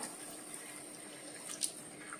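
Water poured into a pan of curry masala: a faint, steady running pour with a brief splash near the middle, otherwise quiet.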